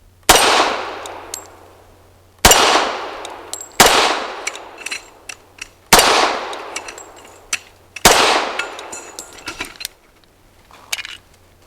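A Century Arms Centurion 11 .45 pistol fires PMC 230 grain ball, five loud sharp shots spaced about two seconds apart, each ringing out with a decaying tail and scattered metallic clinks of brass between.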